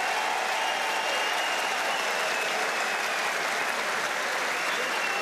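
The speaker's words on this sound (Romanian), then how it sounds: "Aplaudat Viorel Simeon, victorie fără probleme pentru el." A boxing crowd applauds a fighter after his win, a dense, sustained roar of clapping that stays loud and unbroken throughout, with no clear voices standing out.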